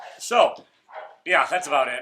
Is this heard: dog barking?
yes